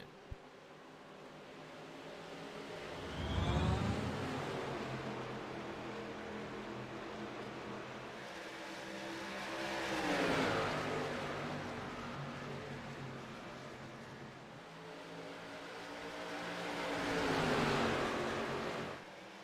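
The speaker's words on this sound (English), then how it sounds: "there goes the parade of race cars past turn 1 and 2" Three waves of race cars on a speedway oval swell in, roar past and fade away through turns 1 and 2, each pass rising to a loud engine howl before falling off into distant drone.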